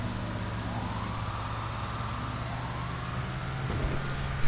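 Police sirens in GTA 5 wail at night, a rising and falling tone that sits back in the mix under a constant rumble of traffic and engine noise.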